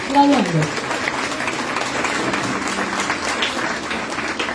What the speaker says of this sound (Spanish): Aplauso para estos 21 jóvenes